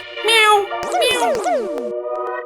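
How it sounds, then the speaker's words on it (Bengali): A cat meows several times in quick succession, close and clear, the cries rising and falling, with a voice faintly underneath. "বিড়াল এলো নাকি?"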